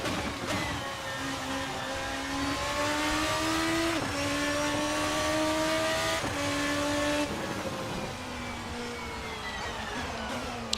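Formula RSS 2 race car engine in a sim racing game revving hard, pitch climbing steadily and dropping at each quick upshift near 10,000 RPM, loud and continuous with no talk.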